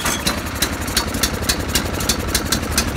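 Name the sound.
Briggs snowblower engine idling after choking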